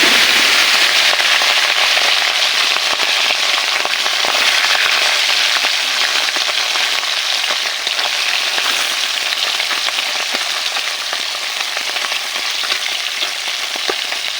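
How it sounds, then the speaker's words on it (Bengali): Small puti fish coated in turmeric and salt fry in hot oil. A loud, dense, crackling sizzle pops and spatters continuously up close, with no voices. "তেল গরম হয়ে গিয়েছে, এখন দিয়ে দিব আগে থেকে হলুদ লবণ মেখে রাখা মাছগুলো"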